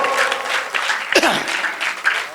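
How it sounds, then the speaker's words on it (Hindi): Audience applause at a mushaira poetry recital in Patiala, Punjab, fills the space as a thick, continuous wash of many clapping hands, with a few voices briefly cutting through. "जरा एक बार दोनों हाथ हवा में उठा जौहर भाई के लिए तालियां बजा दीजिए"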